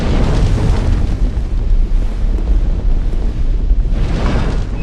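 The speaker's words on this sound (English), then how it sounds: "Oh, that's fire." Fire bursts out in the Dark Souls 2 video game, a loud, continuous roaring rumble with heavy low-end weight that churns steadily and surges briefly near the end, with no voices over it.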